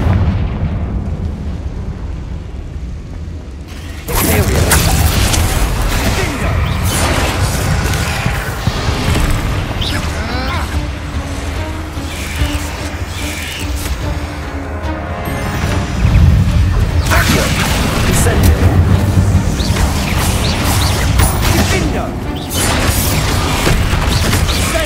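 Confringo fire spell blasts in Hogwarts Legacy on PS5: loud, dense explosive bursts and crackling booms that fill the whole stretch with a sustained roaring rumble, swelling again partway through.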